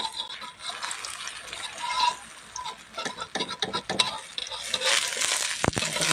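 Food frying in hot oil, with crackling sizzles and stirring that rise and fall in irregular bursts, fairly faint and close.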